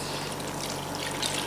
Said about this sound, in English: She's added water now.